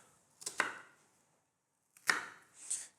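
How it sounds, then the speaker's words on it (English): A knife slicing lengthways through a red onion on a cutting board, two crisp cuts about a second and a half apart, each a short crunchy stroke ending with a light tap, close and quiet with silence between. "I'm gonna slice lengthways along the onion, not hitting the end, just so that it still holds its shape."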